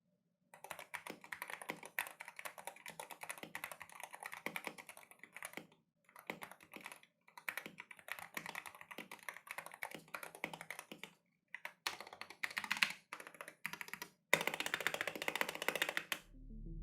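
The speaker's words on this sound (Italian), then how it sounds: "non hai potuto goderti il test del suono dei tasti" Rapid mechanical keyboard typing, crisp clacky keystrokes in bursts with short pauses, close and fairly loud throughout.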